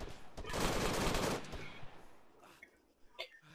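Dense burst of automatic gunfire in an ARMA 3 battle in Takistan, loud and sustained for about a second, then trailing off into scattered distant shots and echoes.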